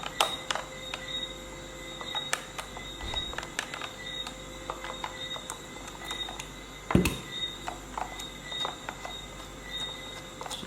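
Small clicks, creaks and scrapes come from screws being unscrewed out of a Fender Stratocaster guitar, sparse and quiet with a sharper clunk partway through and no talking.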